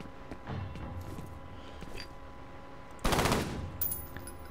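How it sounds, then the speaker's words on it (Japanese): A three-round-burst rifle fires in the first-person shooter F.E.A.R., a dense crackling blast of shots standing out loudly against quieter game ambience and scattered clicks, with a brief second flurry just after. "まさかの3点バースト。"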